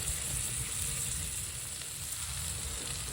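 Steaks sizzle and fry steadily in a pan on an ice camping trip in the Rockies, a dense, continuous crackling hiss heard up close with no talking.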